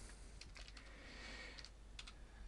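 Quick bursts of typing on a computer keyboard during Small Basic programming, uneven clusters of soft, close keystrokes with short pauses, no voice over them.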